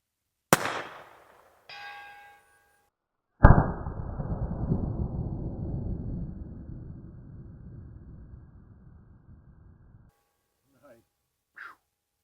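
A single loud, close subsonic rifle shot cracks out, followed by a long decaying rumble that fades over several seconds, with brief clicks and a short voice near the start and end.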